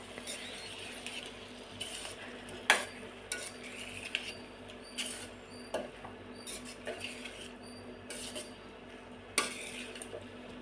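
A spoon stirs a tomato and brinjal curry in a pan, making soft, irregular scrapes and light taps against the metal. It is faint and close, with a low background hum.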